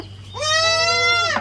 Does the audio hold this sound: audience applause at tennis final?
no